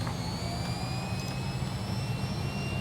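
Fokker F28 jet engines spooling up to takeoff power in Microsoft Flight Simulator, a steady loud roar with a rising whine layered on top, continuous and unbroken.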